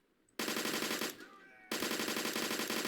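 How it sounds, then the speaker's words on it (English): Gunfire in Blackhawk Rescue Mission 5, loud close bursts of rapid automatic shots with a brief pause between two long volleys. "Let me just shoot these guys real quick"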